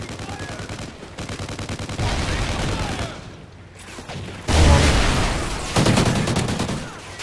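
Rapid automatic gunfire in Call of Duty Ghosts, dense bursts of shots in clustered stretches with short gaps, loud and close.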